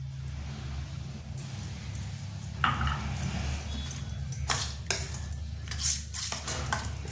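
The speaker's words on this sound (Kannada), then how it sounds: "ಅದೇ ಕಪ್ನಲ್ಲಿ ಮೊಸರು ಹಾಕ್ತಾಯಿದ್ದೀನಿ" Curd spooned into a measuring cup while making quick idli batter, heard as scattered close clinks and scrapes of a spoon against metal over a low background hum, without speech.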